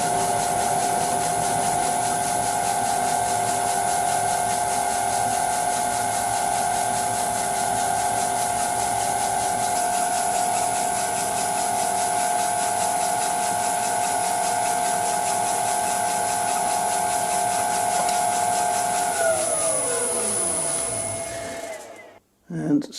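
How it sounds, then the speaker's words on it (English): A steady, high whining drill bores a hole in metal, grinding continuously for a long stretch, then winds down in pitch as the motor stops, followed by a brief clunk. "with filming, it takes at least a half hour to drill one hole"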